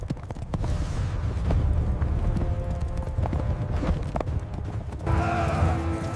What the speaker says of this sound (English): Mongol warriors rode with many horses, changing mounts without stopping.